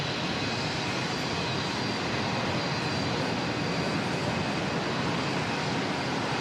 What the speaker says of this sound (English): Cool thrust reverser design on A330.